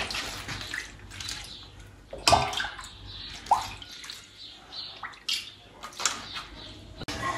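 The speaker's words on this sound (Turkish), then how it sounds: "Her katına süt ekleyeceğiz." Milk poured over stacked güllaç pastry sheets in a home kitchen, a soft liquid splashing and trickling with several brief louder gushes and pauses, close and fairly quiet, no talk.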